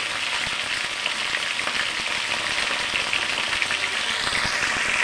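Large potato pieces fry in hot oil for a mutton curry, a close, continuous crackling sizzle that holds steady for the whole stretch without any talk.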